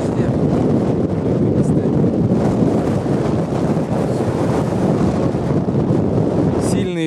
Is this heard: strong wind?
yes